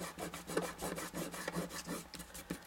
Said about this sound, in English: Just have to rub this one off